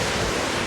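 Strong wind roars on a Madeira mountain road, a loud, steady, full rush of gusting air buffeting close by.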